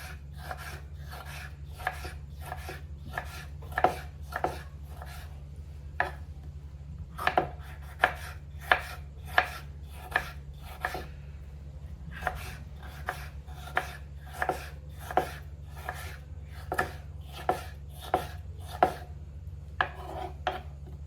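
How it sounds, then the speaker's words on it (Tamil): Knife chopping food into small pieces on a cutting board while making creamy paneer, a long run of rapid, steady taps under a low hum, close by and with no speech. "இப்போ வந்து இதையும் சின்ன சின்னதாக சாப் பண்ணிக்கலாம்."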